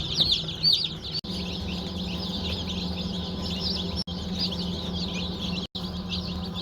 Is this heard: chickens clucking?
yes